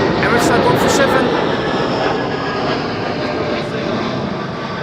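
An Emirates airliner, flight 147, approaches Schiphol on the glide slope, its distant engines a loud, steady broadband roar that fills the clip, while a voice talks over it.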